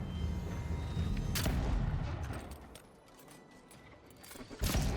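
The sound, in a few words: gunfire shooting in the video game Avowed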